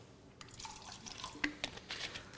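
Fresh water samples being poured into containers, a soft splashing trickle with a few drips, quiet and close, with no voices.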